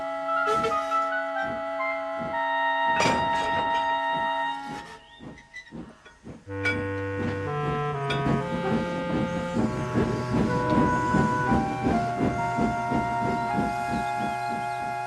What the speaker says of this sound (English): Skarloey was able to push Duncan and his coaches safely through